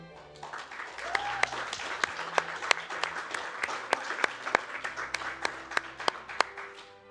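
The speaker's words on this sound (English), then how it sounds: "let's get one more huge round of applause" An audience at the RPG Limit Break speedrun charity marathon gives a sustained round of applause. The crowd clapping is steady and fairly loud, with sharp individual claps standing out throughout.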